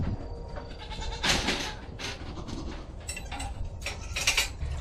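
Nigerian Dwarf show goats bleat in several short, bright bursts, close and moderately loud, with faint clanking and barn noise between the calls.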